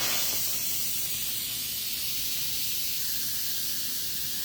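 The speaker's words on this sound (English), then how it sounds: "So I'm going to release the steam." A pressure cooker vents its steam in a loud, steady, unbroken hiss that holds at the same level throughout with no pauses.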